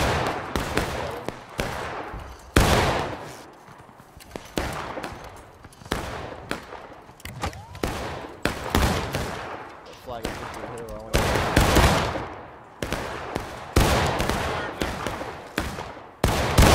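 Rifle volleys in the War of Rights video game during an online event, repeated sharp cracks and ragged bursts of musket fire, some near and loud, others more distant, with players talking over the shooting.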